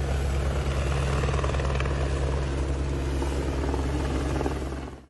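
A medical transfer helicopter flying overhead in Caxambu, southern Minas Gerais, Brazil, a loud continuous rotor thump and engine roar close by that cuts off abruptly at the end.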